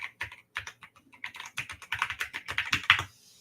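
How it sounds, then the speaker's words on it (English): Close, rapid typing on a computer keyboard, a steady run of clicking keystrokes with brief pauses, growing slightly louder toward the end. "Yes, I am typing it in."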